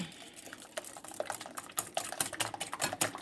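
Carrot cake batter being stirred with three eggs, giving a close, steady run of light scraping and clicking strokes that tap irregularly against the mixing bowl, with no talk.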